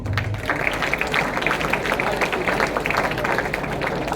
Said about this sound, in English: You can give him a clap.